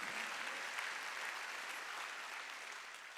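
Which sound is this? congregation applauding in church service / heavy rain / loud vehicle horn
congregation applauding in church service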